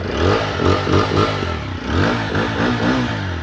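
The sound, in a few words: TVS Apache RTR 160 4V engine revving, bullpup exhaust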